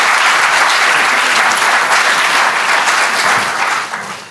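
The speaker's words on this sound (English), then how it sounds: "Nice applause." An audience at a volunteer expo's featured speakers evening gives loud, steady applause, a dense wash of clapping that holds for several seconds and then begins to fade.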